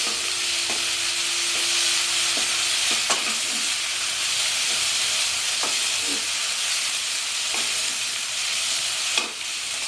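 Onions or spices fry in a pan for Bengali stuffed pointed gourd, with a continuous loud sizzle and occasional sharp clicks of a spoon stirring against the pan.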